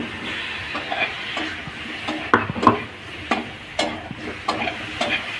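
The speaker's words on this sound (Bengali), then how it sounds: "লঙ্কা, আলুগুলো দিয়ে দিচ্ছি" Chili and potatoes added to a hot cooking pan give a soft continuous sizzle with repeated sharp clinks and scrapes of a spoon stirring, close and rhythmic, no talk.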